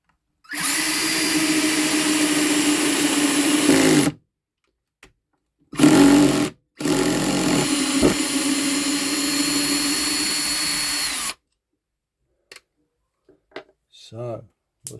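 A cordless drill set to torque setting 12 drives a waxed screw in, whirring loudly in two long bursts with a short spurt between them, then stopping as the clutch setting ends the run.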